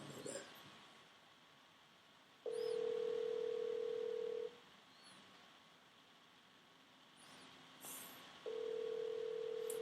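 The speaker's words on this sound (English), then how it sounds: "I will call Roxy. Because these guys, they'll answer the phone" Steady telephone line tones while placing a phone call: two long, even tone bursts of about two seconds each, separated by a quiet gap, over faint hiss.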